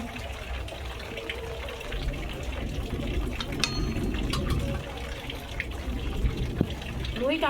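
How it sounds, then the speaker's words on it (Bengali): Water pours into a kadai set on a stove while fish rubbed with salt and turmeric waits, a steady splashing gush running under a busy, noisy room throughout. "কড়ার মধ্যে জল দিয়ে দিচ্ছি"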